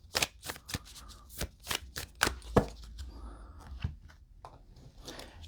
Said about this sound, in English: I'm going to put your cards away and just shuffle